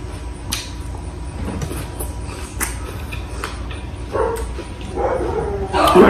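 A neighbor's dog barks in short yips and woofs from nearby, several barks scattered through the stretch, mixed with background noise and brief voices, growing louder toward the end.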